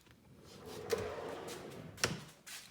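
A large drawer in a floor-to-ceiling workshop tool cabinet rolls out on high-capacity full-extension slides, a soft rumbling glide framed by two sharp knocks, close and fairly quiet.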